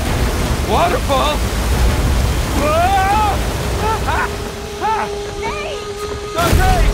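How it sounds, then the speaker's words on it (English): Rushing water from a waterfall in the video game Uncharted 4, a loud broad roar under shouted character dialogue, with a brief louder burst near the end. "Waterfall! Waterfall!"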